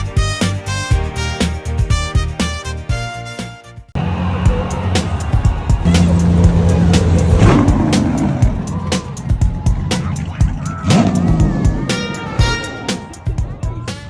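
Race car engines roar past at the Cape Town Speed Classic, loud and close with rising and falling engine tones, after a few seconds of music; a voice talks over the motorsport noise.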